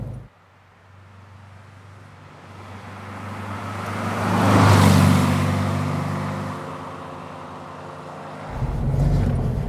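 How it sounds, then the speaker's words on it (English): A 1964 Porsche 356C flat-four engine thrums steadily, swelling louder as it revs up and then settling back, heard alone without voices. "That classic flat 4 thrum."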